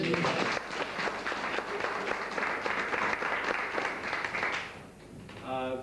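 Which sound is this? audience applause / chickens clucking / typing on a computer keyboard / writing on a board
audience applause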